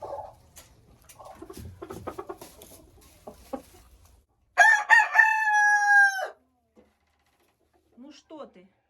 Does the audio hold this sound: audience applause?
no